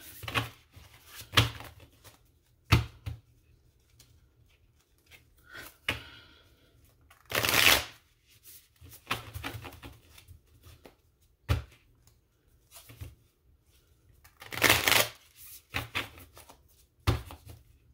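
Repeated bursts of cards being shuffled and riffled by hand, interspersed with soft taps and clicks, close and moderately quiet.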